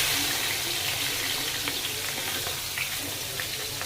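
Chopped onions and curry leaves fry in a pan with a steady, close sizzle and crackle that runs the whole time, with faint stirring scrapes and no talking.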